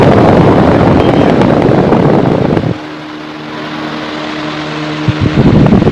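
A Super Star room air cooler fan runs on DC battery power with a loud, steady airy whoosh close by, briefly dropping to a low motor hum mid-way before the rushing air returns.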